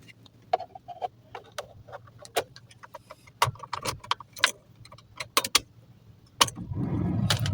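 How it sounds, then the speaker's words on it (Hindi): A key jangles and clicks into the ignition of a Maruti car, followed by a steady low engine-like hum at the end; close and quiet with no talking. "चाबी लगाता हूँ मैं।"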